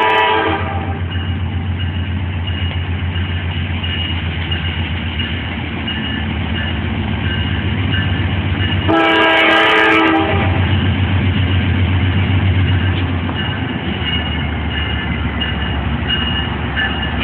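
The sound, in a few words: freight train horn honking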